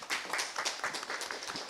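An audience at a forum on digital transformation and quality of life claps to welcome a presenter, a moderately loud patter of many hands with individual claps popping through the texture.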